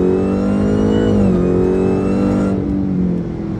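A Stage 1 Dodge Charger Hellcat making about 900 hp to the wheels pulls hard from 60 to 80 mph, its supercharged engine roaring loud and rising steadily in pitch before easing off near the end, heard from inside the car.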